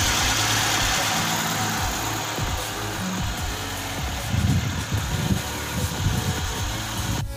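A 2010 Hyundai Accent engine idles under an open hood: a steady, close, even hum with a low mechanical rumble and slight fluctuations, no voices.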